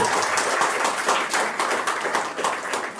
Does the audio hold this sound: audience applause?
yes